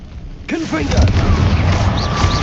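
Confringo blasting spell explosion in Hogwarts Legacy, a loud booming burst with rumbling low end, overlapped by a shouted voice as the blast erupts.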